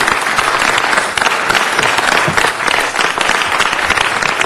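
Sustained, dense applause from a crowd at a city council meeting, loud and continuous clapping filling the room from start to finish.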